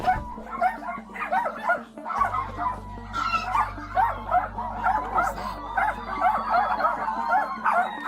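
Several dogs inside a house bark, yip and whimper continuously and loudly at close range. Their overlapping calls are heard over a low steady hum.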